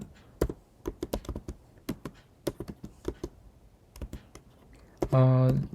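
A command is typed on a Mac computer keyboard: a quick, irregular burst of close, crisp key clicks and taps, ending with a short, loud humming tone.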